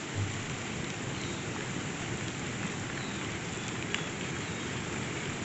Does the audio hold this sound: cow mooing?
no